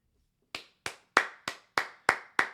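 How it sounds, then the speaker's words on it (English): Seven crisp, evenly spaced hand claps from one person, sounding close and loud with no talking. "Now, I want to just give a round of applause to Brian Callahan"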